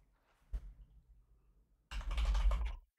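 A computer keyboard is used to type a PC name during a Windows Whistler Build 2430 installation: one isolated keystroke, a pause, then a close, quick burst of rapid clicking taps.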